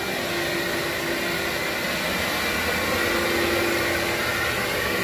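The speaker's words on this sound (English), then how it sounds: "A very dusty vacuuming." Vacuum cleaner running steadily over a very dusty carpet during a pre-vacuum pass in a carpet cleaning job, a loud, continuous broadband roar and hum with no breaks.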